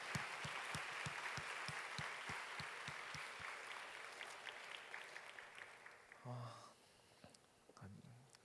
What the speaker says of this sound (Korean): 박수를 하겠습니다.